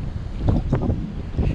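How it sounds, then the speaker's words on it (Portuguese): Wind rushes through a windy corridor between tall buildings in Balneário Camboriú, heard as low, rumbling gusts buffeting the microphone, with short surges and no speech. "Passando aqui num corredor de vento, ó. Sempre tem esse vento aqui, né, por causa dos prédios."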